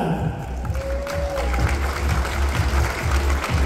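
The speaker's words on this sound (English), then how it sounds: "A round of applause to that." Audience applause rings out at a pageant grand coronation night, a steady wash of clapping that holds for several seconds, with a brief tone and low crowd murmur underneath.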